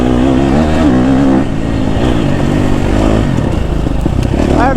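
A KTM 250 SXF dirt bike ridden along forest trails, its engine droning loud and close throughout with rising and falling revs.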